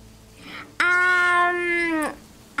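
A cat in a video game lets out one long, loud, tonal meow that holds steady and then cuts off, preceded by a faint quieter mew.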